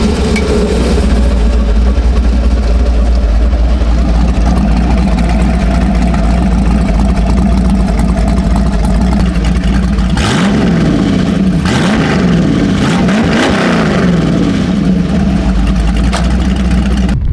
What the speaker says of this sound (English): Electric cutouts on an LS motor are sick.